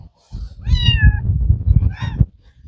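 Kittens meowing in a barn setting, several short rising cries, close and fairly loud, with rustling and handling noise underneath.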